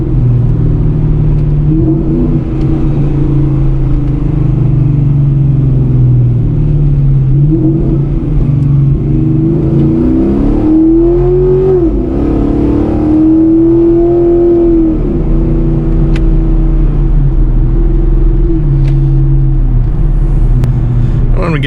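Pontiac G8 GT exhaust heard from inside the car with the windows up, a steady loud low rumble that swells into a rising and falling rev blip during a downshift before settling back to a cruising drone.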